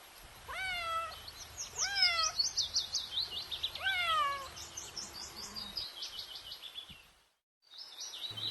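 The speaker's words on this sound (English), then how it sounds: "C for cat." A cat meows several times in rising-falling calls amid a children's alphabet rhyme track, with bright chirpy bird-like tones layered over it and a brief drop to silence near the end.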